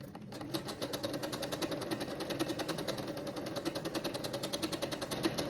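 Sewing machine chain piecing quilt blocks, a rapid even mechanical stitching rattle running continuously and close after a brief quiet start.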